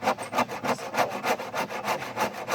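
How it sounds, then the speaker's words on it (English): A handsaw cuts through wood while building a modular 8 ft by 12 ft deck, sounding as a loud, steady back-and-forth rasp of about ten even strokes, close up with no voices. "Try to cut something straight with a handsaw"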